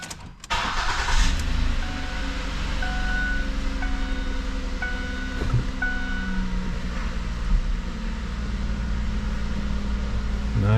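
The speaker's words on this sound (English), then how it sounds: "pump is going to make a little bit of noise until we get it bled out all the way" A 2008 Ford Taurus idles steadily as its power steering pump whines while the wheel is turned, a continuous engine drone with repeated rising tonal groans from the pump, close and steady with no talk.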